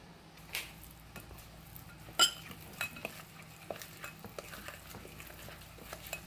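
Food being stirred in a pot in a home kitchen, with scattered soft scrapes and clinks of a utensil against the pan and one sharper knock, faint and close, with no talk.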